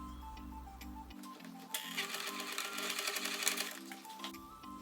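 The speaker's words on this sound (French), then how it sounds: "la plier en 2 endroit contre endroit et venir piquer l'extrémité à 1 cm sur la largeur" A sewing machine stitching across the end of a folded fabric strip for a mask: a close, rapid rhythmic clatter of the needle running steadily for a few seconds between quieter mechanical hum.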